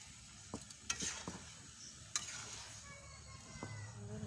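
Papaya pieces stirred in hot sugar syrup in a pan, a soft sizzle and bubbling under occasional scrapes and light clinks of the spoon against the pot, quiet and close.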